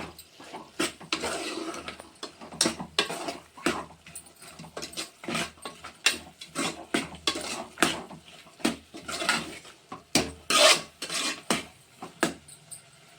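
Mutton keema pulao with chili powder is stirred in a pot, giving repeated scraping and clanking of a metal spoon against the vessel in an uneven rhythm. The sound is close and fairly loud, with nobody speaking.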